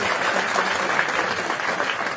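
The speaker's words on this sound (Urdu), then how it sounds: "ایک دفعہ اپنے لیے جو ہے وہ تالیاں بجائیں آپ سارے" Sustained applause from a crowd at an outdoor sit-in rally held by the Liberation Front, a dense steady wash of clapping that fills the whole stretch at an even, fairly loud level.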